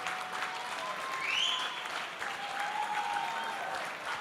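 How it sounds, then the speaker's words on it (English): Steady applause from a reggae awards show crowd honouring Freddie McGregor, continuous clapping throughout with a faint whistle or cheer rising above it. "Please give him an applause."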